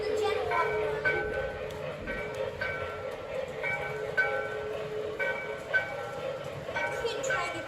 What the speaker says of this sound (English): Turn that darn bell off.